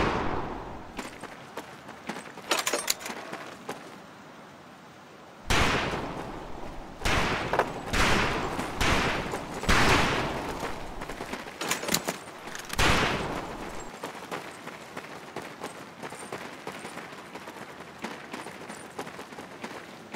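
Rifle gunfire at a boot camp shooting range in Medal of Honor: Pacific Assault, heard as repeated sharp cracks and bursts spread irregularly across the span, with dense clusters in the middle and quieter background noise between.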